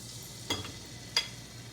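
A tablespoon of garlic frying in hot oil for teriyaki, a quiet low sizzle with two short, sharp stirring scrapes against the pan.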